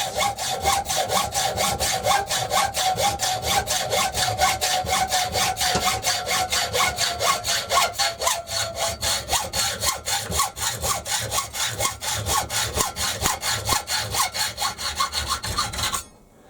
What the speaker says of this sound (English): So I'll cut 2 of those, a bit of M10 stud rod